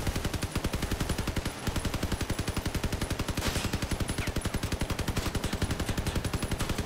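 An upgraded Quad M-39 Imp rapid-fire machine gun in a video game fires a long, unbroken stream of fast, evenly spaced shots, loud and close, with only a brief pause.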